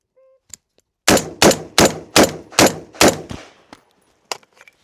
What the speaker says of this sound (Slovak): vypálime 6 rán najrýchlejšie ako budem vedieť a uvidíme, že ako sa to bude správať